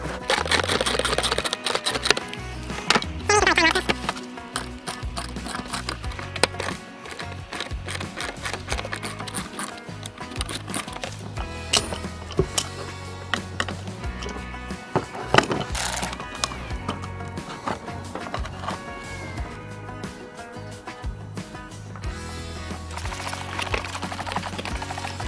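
A ratchet driving a T20 bit clicks in quick uneven bursts on car throttle body screws, with metallic rattles and handling noises throughout, close and fairly loud.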